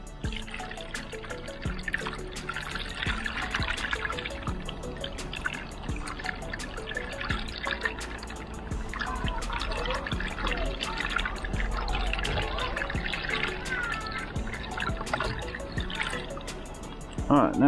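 Bucket of water poured into a roof gutter and running down the downpipe, a steady close trickling and splashing flow throughout at moderate level, with faint talk underneath.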